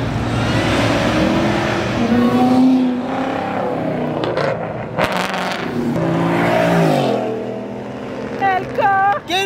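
Ford Mustang engine revving hard at Mustang Week, a loud, sustained roar with rising and falling pitch under a noisy crowd, voices shouting over the engine near the end.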